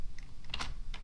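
Keys tapped on a computer keyboard while entering Python code, a few quick clicks in a short burst, close and fairly soft with no talking.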